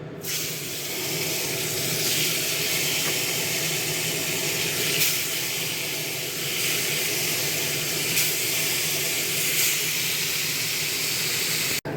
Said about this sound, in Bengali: কই মাছগুলোকে ভালো করে ভেজে নিয়ে তুলে নিয়েছি